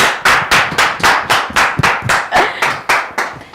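Audience clapping in a tight, even rhythm, about a dozen loud, close, sharp claps in quick succession with no voices over them.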